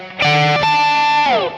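A clean electric guitar plays a short lick of sustained, ringing notes high on the neck with a slide at the end, bathed in reverb; a song phrase.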